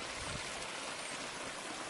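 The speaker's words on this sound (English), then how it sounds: "There's more water here available than they need, so it spills out." Water spilling over into a hillside terrace on Madeira, a steady broadband rush and trickle heard up close, continuous and fairly soft with no voices.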